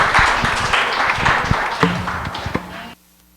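Church congregation clapping together in steady, dense applause at close range, with scattered sharper claps standing out before the sound cuts off abruptly near the end.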